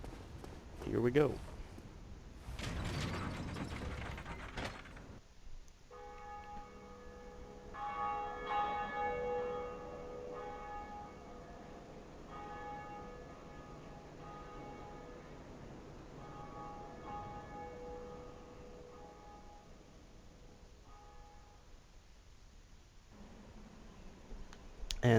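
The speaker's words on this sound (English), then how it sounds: "And now we'll just head up the tower and ring the Bell of Awakening." A bell tolls in the video game Dark Souls as the Bell of Awakening is rung atop a tower, with sustained metallic ringing that decays slowly over many seconds after a few rough knocks and footsteps.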